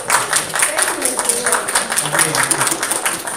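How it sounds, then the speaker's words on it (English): Applause from the audience at a town board of aldermen work session, a sustained, moderately loud clatter of many hands clapping in a meeting room, with a voice audible underneath. "I think he deserves a round of applause."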